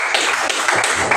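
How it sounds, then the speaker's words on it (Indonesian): A short burst of classroom clapping for a student in a Catholic religious education lesson, dense and close, lasting barely over a second. "Tepuk tangan untuk Virgin"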